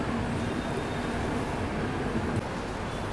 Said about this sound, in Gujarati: આપણો આજની સૌરાષ્ટ્ર મેલ નીકળી ગઈ છે દ્વારકા ઓખા તરફ